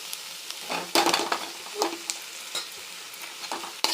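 Chicken wings stir-fried with onion, tomato, ginger-garlic paste and mint in a pan, with close sizzling and irregular scraping, clattering stirs of a spatula, no voices.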